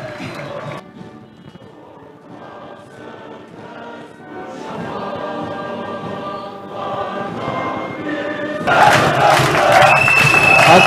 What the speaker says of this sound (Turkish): Van Spor oyun aranında taraftarların tezahüratı eşliğinde.